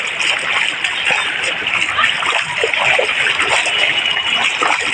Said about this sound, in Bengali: রাস্তার উপরে দিয়া জল যার দেখতে পাইতরা